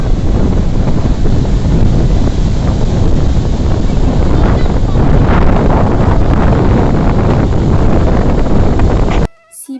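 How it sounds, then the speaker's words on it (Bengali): Sea waves surging onto the beach at Puri, a loud continuous roar of surf mixed with heavy wind buffeting the microphone, steady throughout before cutting off abruptly near the end. "সমুদ্রের আওয়াজটা কি ভালো লাগে না তাই তোমাদের একটু শোনালাম"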